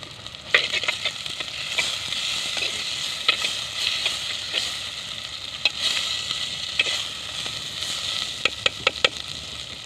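Chopped tomatoes frying with softened onions and crushed garlic in a pan, a steady close sizzle with bursts of crackle and occasional stirring scrapes, no voices.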